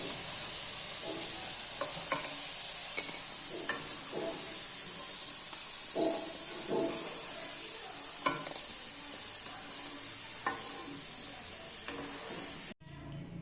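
Potato pieces frying in oil over medium heat, giving a steady close sizzle with occasional stirring scrapes and small pops, heard on its own without talk.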